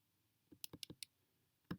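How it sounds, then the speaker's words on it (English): Calculator keypad pressed in a short run of light plastic clicks, five quick taps in a cluster followed by one more after a pause, close and clear in a quiet room. "Am I still typing this into my calculator?"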